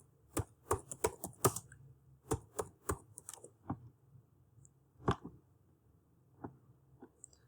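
Someone types on a computer keyboard, entering a short tag name: irregular close key clicks in quick clusters, then sparser taps trailing off, with no talking.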